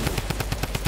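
Rapid automatic fire from a tactical assault rifle in Fortnite Battle Royale, about eight evenly spaced sharp shots within a second, loud and close with no talking.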